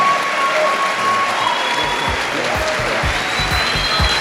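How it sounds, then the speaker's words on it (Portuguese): A convention audience applauds loudly for a speaker, a dense and continuous wash of clapping with cheering voices mixed in. "Uma grande salva de palmas para o Sandro!"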